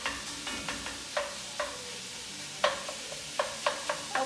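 Sausage browning in a pot with a soft steady sizzle, broken by occasional stirring knocks and scrapes, close but fairly quiet, with no voices.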